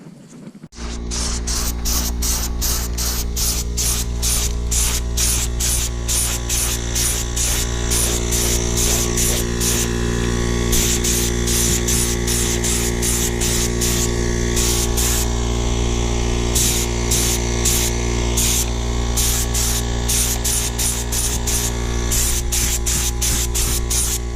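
An air sprayer coats school bus bumpers in orange paint with a loud, continuous hiss over a steady compressor hum, cut by rapid rhythmic bursts of higher spray noise throughout.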